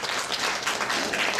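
Concert audience applause fills the hall in a dense, continuous wash of clapping, steady and moderately loud, with no talk over it.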